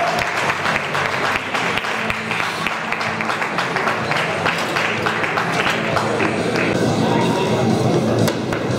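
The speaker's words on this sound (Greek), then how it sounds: "Ένα χειροκρότημα για τον Βαγγέλη, παρακαλώ" Continuous audience clapping at a squat powerlifting competition, steady and moderately loud throughout, with crowd noise and some voices underneath.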